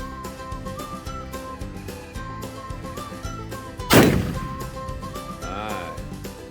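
A single sharp report from a Colt 1847 Walker .44 percussion revolver fired at a plastic soda bottle, cracking out loudly midway over background music and then ringing away.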